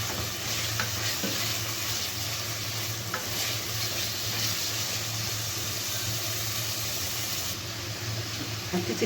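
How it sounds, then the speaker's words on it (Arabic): Liver stir-fried in a hot pan with garlic, vinegar and lemon gives a steady, loud sizzle, with occasional stirring scrapes from start to finish and no voices. "حطيت الكبدة بتاعتي على التومة بالخل، شوحتها زي ما انتوا شايفين كده"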